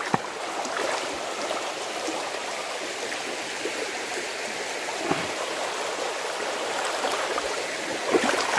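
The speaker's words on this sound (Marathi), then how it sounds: "हा आमचा हसोळीचा व्हाळ." Stream water in a rural village flows and burbles steadily, a continuous close rushing with small splashes throughout.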